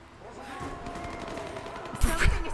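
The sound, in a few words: gunfire in battle in a video game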